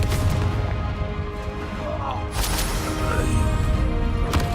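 Confringo blasting spell exploding in Hogwarts Legacy, with two sharp, booming blasts cutting through steady battle noise and faint voices.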